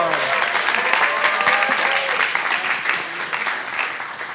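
A church audience gives a short, lively round of applause following a skit, a thick wash of clapping hands that holds steady and tapers slightly at the end.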